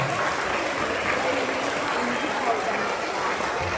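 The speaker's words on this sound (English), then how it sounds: "I've got another round of applause for this great chorus" Applause from a graduation audience for a school chorus, a dense steady clatter of many hands at even loudness throughout, with a few voices mixed in.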